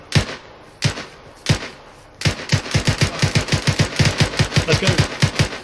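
Arma 3 rifle fire in a town assault: a few spaced single shots, then a sustained rapid string of loud, close automatic shots in steady rhythm, with a brief spoken line near the start.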